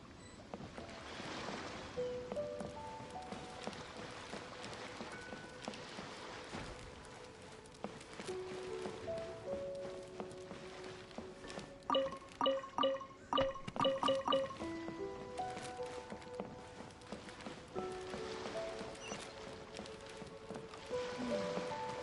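Gentle ocean water laps and washes around a sailing boat in the video game Genshin Impact, a soft, continuous splashing bed, with game music tones layered over it.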